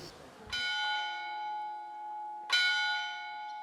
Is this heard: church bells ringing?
yes